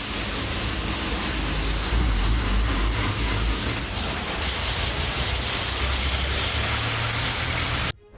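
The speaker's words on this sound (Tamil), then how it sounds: "பல்வேறு பகுதிகளில் அரை மணி நேரத்திற்கு மேலாக கனமழை" Heavy rain pours down in a dense, constant roar of broadband hiss that holds at full loudness for several seconds and then cuts off abruptly.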